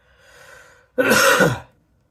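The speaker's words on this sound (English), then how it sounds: "The way I'm coughing now." A person coughs and clears their throat: a soft raspy breath followed by one harsh, close cough.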